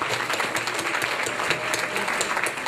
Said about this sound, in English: give a welcome round of applause to Rebbetzin and Rabbi Goldschmidt.